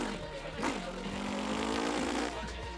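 A human voice imitates a racing car engine revving, a buzzing drone that climbs and then holds a steady pitch, with chatter from other people around it.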